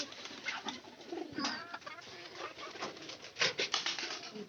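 A pair of pet pigeons coo softly in repeated low, throaty phrases, fairly close and quiet, with faint scratching and shuffling between calls.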